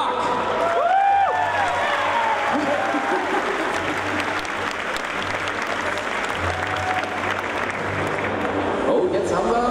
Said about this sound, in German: Nochmal ein großer Applaus für Marc.